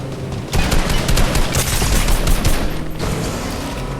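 Grenades fired in a video game, a dense, loud burst of rapid launches and blasts starting abruptly and rolling on for a couple of seconds before easing into a rumbling background.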